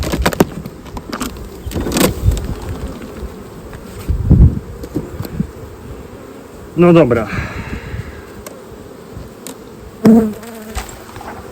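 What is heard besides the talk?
honeybees buzzing at open hive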